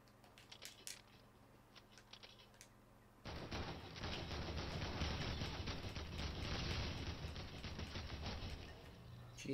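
Opponent's gun firing in Fortnite: Battle Royale, a sustained burst of rapid shots that starts abruptly after quieter game noise and keeps rattling loudly for several seconds.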